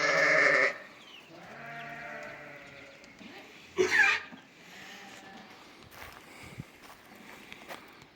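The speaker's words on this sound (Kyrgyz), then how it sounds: "Мына. 8 кочкор." Rams bleating at a livestock market: a loud, close bleat opens, followed by fainter bleats and a sharp cry, with shuffling and scattered background noise between them.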